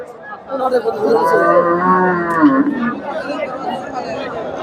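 A tall, large Friesian bull lows in a long, drawn-out moo close by at a cattle market, with murmuring voices and crowd chatter around it.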